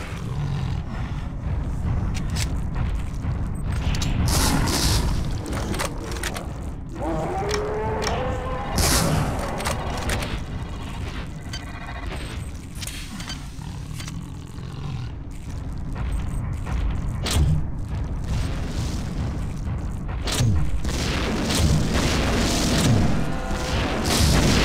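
Psy Reavers bursting apart in chunks in System Shock 2, heard as loud, roaring booms and rumbling blasts that churn on continuously amid dense game noise.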